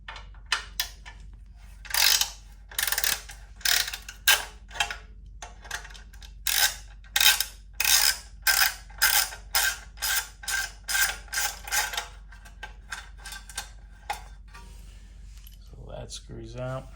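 A socket ratchet backs out screws and a clamp nut on the exhaust of a 2022 BMW GS1250 during an Akrapovic install, giving close, repeated bursts of quick ratcheting clicks with short pauses between strokes.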